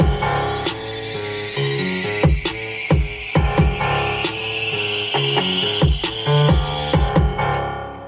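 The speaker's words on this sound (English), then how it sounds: "that could be a powerful rise effect if you want like a really long dramatic rise in a beat" A long synthesized riser sound effect for beat production swells steadily upward over about eight seconds without cutting off, layered with punchy percussive hits and tonal musical content, loud and dense throughout.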